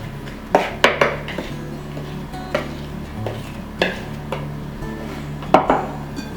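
Lamington cake batter being stirred gently in a bowl, a utensil clinking against the side in scattered taps and scrapes, close and fairly quiet, with no talking.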